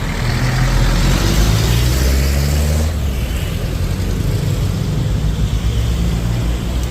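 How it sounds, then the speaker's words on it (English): Red car maneuvering to park on a Philippine street, a loud nearby engine rumbling and revving over steady traffic noise, easing slightly midway, with no talk. "And red car trying to park."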